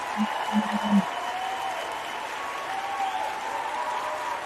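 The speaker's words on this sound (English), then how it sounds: "Give a big round of applause to the greatest YouTuber." Audience applause for a YouTuber on a casual show, a steady wash of clapping and cheering held under a faint hum, with a few brief vocal tones at the start.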